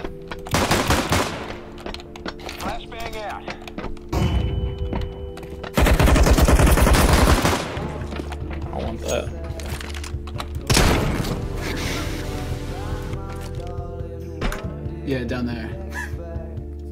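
Counter-Strike: Global Offensive gunfire rings out in loud bursts of rapid shots, with one long heavy volley midway and scattered single shots, while players talk excitedly over the action.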